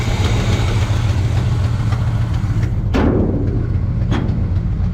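A car engine idling with a cracked Rochester Quadrajet four-barrel carburetor leaking fuel, a steady low rumble close by with a couple of brief sharp noises breaking in near the end.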